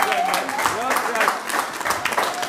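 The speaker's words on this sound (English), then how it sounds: "So I've got a big round of applause for my players" Round of applause for the players at a 2016 team presentation night, moderate clapping from a room crowd with voices and cheers mixed in.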